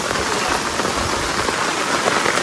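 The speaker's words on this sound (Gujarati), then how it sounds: "અતિ ભારે વરસાદ છે ગારિયાધારમાં." Very heavy monsoon rain pours down in Gariyadhar, Gujarat, a loud, dense and unbroken roar of water drumming on surfaces close by.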